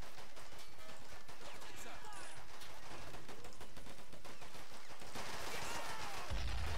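Dense, continuous gunfire from a Men of War firefight, with overlapping rifle and machine-gun bursts crackling over a steady loud battle din that swells near the end.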